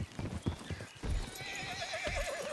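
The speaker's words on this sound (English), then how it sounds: "Oh, look at that horse. He wanted to say hello to me." Horse in a roleplay video game, hooves clip-clopping in uneven close thuds, followed by a loud drawn-out whinny with a wavering pitch.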